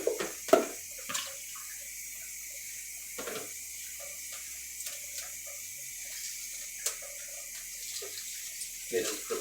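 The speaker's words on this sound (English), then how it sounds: "So we're gonna go ahead and wash all these" Red potatoes being washed under a running tap, with water splashing steadily and rising in short bursts as the potatoes are handled, close by and moderately loud.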